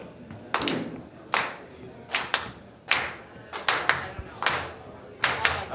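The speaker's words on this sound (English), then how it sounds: "Can we all hand clap?" Hands clap in an uneven rhythm, about a dozen sharp claps spaced roughly half a second apart, close and fairly loud with no talking.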